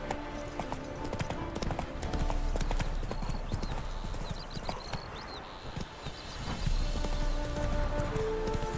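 Roach the horse galloping in The Witcher 3, rapid rhythmic hoofbeats close and loud over a busy game soundscape with music and ambient sound.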